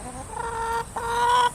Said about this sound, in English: And chicken's more interested in what I'm going to give them than the actual feeder itself.